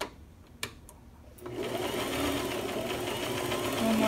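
A sewing machine stitching knit fabric starts after a few faint clicks and then hums steadily at close range.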